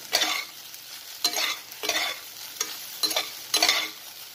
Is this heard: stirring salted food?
yes